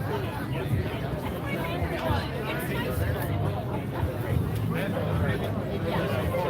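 A big crowd of climate strike protesters rallying in Detroit forms a steady, dense babble of many voices, continuous and fairly loud throughout with no single speaker standing out.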